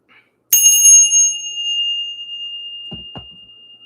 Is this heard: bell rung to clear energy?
yes